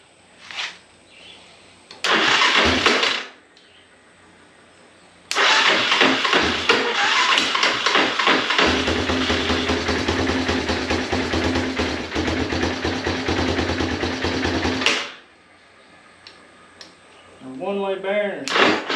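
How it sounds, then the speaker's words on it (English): A Yamaha Big Bear 350 ATV engine with starter clutch trouble cranks in a short burst, then cranks and catches into a rough, loud idle for about ten seconds before cutting off; a voice speaks near the end. "them Yamaha motors always sound rough. It sounds like something's wrong, but it's the starter clutch in there."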